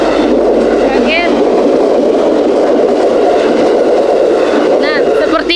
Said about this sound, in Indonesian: kereta api lagi lewat nih